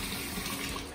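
Tap water runs steadily into a bowl, filling it to rinse potatoes for homemade shoestring potato sticks, a continuous close rushing splash with no talk.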